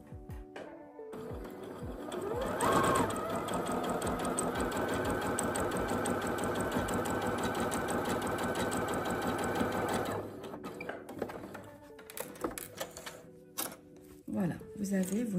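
A sewing machine stitching a second gathering line on a skirt runs in a long steady mechanical whirr for about seven seconds, then stops, followed by light handling clicks and rustles.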